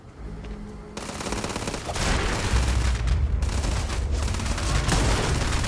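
Sustained automatic gunfire from the video game Starfield, a dense rattling fusillade of rapid shots with booming bursts that grows louder and fuller after the first second and continues without a break, with no talk over it.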